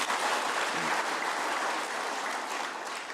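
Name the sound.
audience applause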